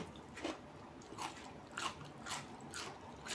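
Crisp bites into a whole fresh cucumber, roughly five crunchy snaps spaced evenly about half a second apart, close to the microphone, with faint chewing between them and no talk.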